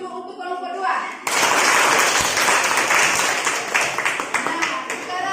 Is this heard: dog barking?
no